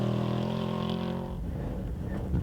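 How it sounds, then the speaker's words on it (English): Idling engine of a Class 8 truck on an uphill trail course, a steady low rumble with harmonic drone that fades into rougher, broadband engine noise partway through, close and continuous. "I'd say the motor sounds good, it's running good here"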